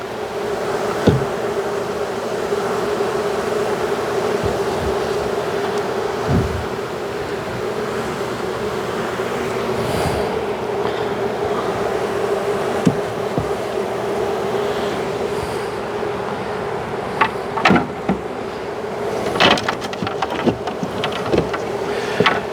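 Honeybees drone steadily around an open Long Langstroth hive with the queen inside, a continuous near hum broken by brief clicks and knocks of frames being handled.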